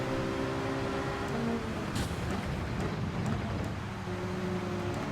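Racing car engines in the Gran Turismo 7 video game, a continuous loud engine drone with shifting pitch from several cars close together, without talk.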